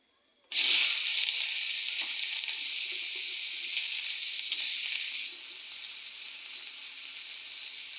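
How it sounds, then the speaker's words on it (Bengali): Chopped onions hit hot oil and sizzle loudly in a pan while fish curry with tomato is cooked, a sudden onset followed by a steady hiss that eases slightly after a few seconds. "এখন প্রথম দিয়ে দিচ্ছি পেঁয়াজগুলোকে"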